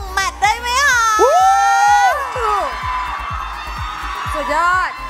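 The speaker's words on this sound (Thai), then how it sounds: "ขอเสียงกรี๊ดอีกสักหนึ่งแมทได้ไหมคะ" A fan meeting crowd screaming and cheering loudly, high-pitched shrieks rising and sustained, with a rhythmic thumping beat underneath.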